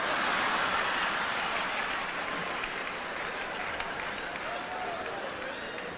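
A comedy club audience at a 1990s Def Jam show bursts into dense applause, loud at first and slowly thinning, with a comedian's voice and crowd murmur running underneath.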